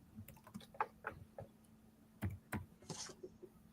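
Fingers tap out a short burst on a computer keyboard, close and moderately loud clicks in an irregular rhythm over a faint steady hum, ending with a brief hiss.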